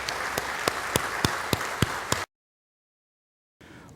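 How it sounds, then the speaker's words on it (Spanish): An audience at an educators' meeting for World Educators' Day applauds, dense clapping with sharp individual claps over two seconds, then an abrupt cut to silence and a faint return of room noise. "Démonos mutuamente un fuerte aplauso por este Día Mundial de los Educadores"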